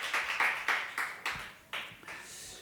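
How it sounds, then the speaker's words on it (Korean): A church congregation applauds during a Sunday service, heard as a short series of spaced, echoing claps that ring out in a reverberant room and fade. "다시 한번 하나님께 감사와 영광의 박수 올려드리겠습니다"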